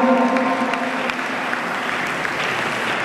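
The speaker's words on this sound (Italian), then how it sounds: "Facciamo un applauso ad entrambi gli atleti" An audience at a kickboxing event in Nuoro applauds both fighters after a bout, with a short, steady burst of clapping from the crowd and some faint tonal sound near the start.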